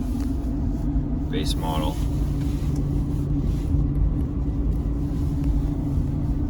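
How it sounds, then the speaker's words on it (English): Cabin noise inside a 2022 Ford Super Duty XLT with the 7.3 gas V8 and 35-inch Duratrac tires while driving: a steady, loud low rumble throughout, with someone speaking briefly over it. "Just so you can get an idea of the cabin noise."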